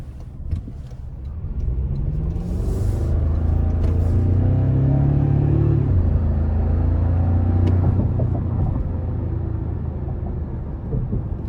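A 2024 Toyota Tacoma Limited pickup's 2.4-liter turbo four-cylinder engine rumbles and climbs in pitch as it accelerates hard in Sport Plus mode, a deep steady roar building close by, then easing off.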